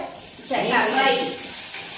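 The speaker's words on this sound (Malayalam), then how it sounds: "മീൻ പൊരിക്കുന്നുണ്ട്" Fish frying in a home kitchen pan gives a soft, continuous sizzle and hiss, close and fairly quiet, with a faint voice briefly underneath.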